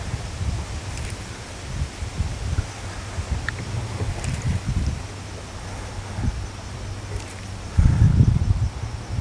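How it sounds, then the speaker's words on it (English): Boat trolling motor holding a fishing boat at drift speed on a breezy river, a steady low electric hum running throughout under wind buffeting and water noise, with a louder gust near the end. "I'm using the trolling motor to keep myself drifting even with the current speed."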